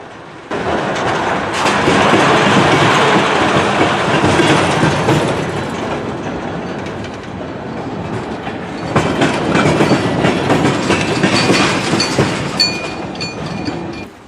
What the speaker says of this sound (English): While the train continues to roll